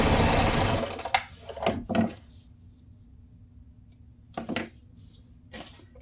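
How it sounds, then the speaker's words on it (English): A sewing machine stitches fabric for a silverware holder, starting with a loud steady whir and then settling into short intermittent bursts of stitching with quiet pauses between, close up. "Get to this corner and stitch all the way to the other side."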